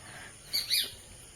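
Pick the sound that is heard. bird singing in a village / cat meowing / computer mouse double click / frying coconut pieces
bird singing in a village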